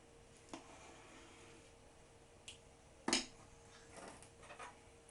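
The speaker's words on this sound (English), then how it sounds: "Give it a good old stir." A spoon stirs Bolognese sauce in a cooking pot, giving a few faint, scattered metallic clinks and scrapes against a quiet kitchen background.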